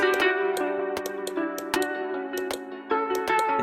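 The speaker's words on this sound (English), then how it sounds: "just filter this a little bit, cut off the low end and well, the high end as well" A looped electronic beat with a thin, band-limited sound, bass and treble cut away, leaving crisp mid-range clicks and tones repeating steadily.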